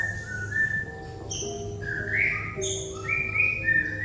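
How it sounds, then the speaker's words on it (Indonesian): Several birds whistle and chirp in clear, varied phrases, fairly close, at an outdoor camp, over a low steady background hum. "Di camp ini banyak burung, jadi saat kalian berada di sini mungkin dalam mic ini akan terdengar burungnya macam-macam"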